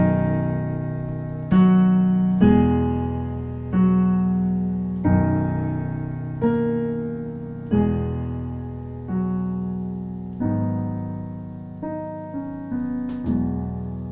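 Piano chords from the worship song O Come to the Altar, played as a slow sequence of about ten sustained chords, each struck clearly and left to ring and decay before the next, close and resonant with no voices.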